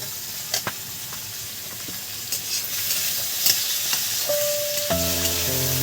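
Finely chopped potatoes coated in turmeric and salt sizzle loudly in a pan with a continuous hiss, a few clinks of stirring, and a musical tone entering near the end.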